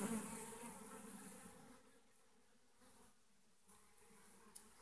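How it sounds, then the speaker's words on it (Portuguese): Bees hum and buzz steadily at close range as a wild colony is taken from the bush and placed into a hive box, the drone fading slightly partway through with no voices. "Tirando a abelha do mato para botar na caixa."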